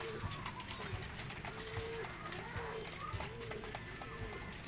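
Pet pigeons coo softly in low, repeated throaty calls amid faint rustling and background murmur, fairly quiet and close, while feeding.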